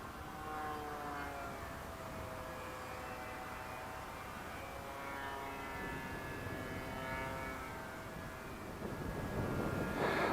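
A HobbyKing Athena carbon-fibre and balsa warmliner RC plane, powered by a 1300 3S battery, flies overhead with a steady electric motor drone and wavering tonal whine that holds throughout and swells slightly louder near the end.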